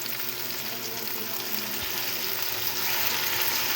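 Chicken and broccoli fry in a pan with a steady, close sizzle and crackle throughout, along with a faint stir, and no talk over it.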